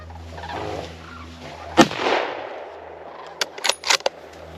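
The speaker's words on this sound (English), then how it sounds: "Shoot him again. Shoot him again." Gunfire at a charging bear during a hunt: one loud near shot, then a rapid burst of several sharp cracks a couple of seconds later, with no talk over them.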